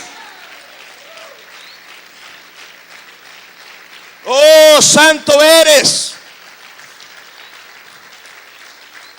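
A church congregation claps in a steady, moderate patter that runs throughout, while a preacher's voice breaks in with a loud, emphatic exclamation over it.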